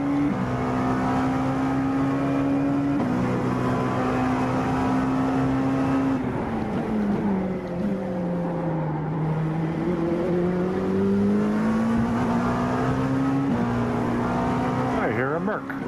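A race car engine drones loudly in the iRacing 12 Hours of Sebring sim race, its pitch sliding up and down through gear changes while approaching a slower class car.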